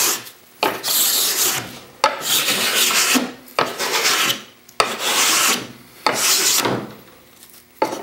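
A scraper plane rasps across figured curly maple in about five long, even strokes, each a loud close scrape separated by brief pauses, with no voices.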